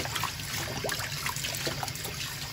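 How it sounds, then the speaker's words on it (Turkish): Water draining off washed green lentils, a close, steady trickle and splash of running liquid for a couple of seconds with no talking. "Bir iki su yıkadıktan sonra suyunu süzdürelim."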